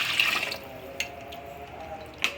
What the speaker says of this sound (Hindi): तो अब हम इनमें पानी शामिल कर रहे हैं।